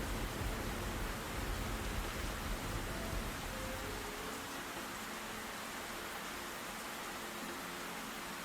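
Rain falling in the video game The Black Mirror 3, a steady broadband hiss of downpour that continues unbroken from start to finish, with faint low tones under it early on.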